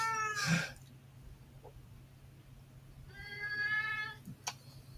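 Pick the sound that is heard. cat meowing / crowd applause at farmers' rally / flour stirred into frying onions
cat meowing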